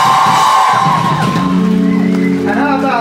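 Concert crowd at a show cheering loudly, with whoops, yells and shouts rising over a sustained roar; a voice speaks at the start.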